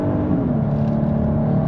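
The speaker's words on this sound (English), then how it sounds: "let's give it a little punch here. Whoa, yeah, this four-wheel drive really gets on it." A 2023 Genesis GV80 3.5T with four-wheel drive accelerates hard, its engine giving a steady, loud rumbling drone with rising harmonics over a brief run, no voices present.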